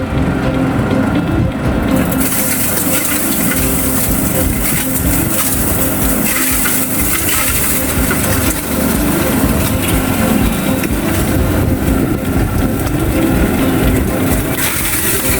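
An eggshell crusher machine runs with a hopper feeding shells, giving a loud, dense, continuous mechanical grinding and rumbling that holds steady for the whole stretch.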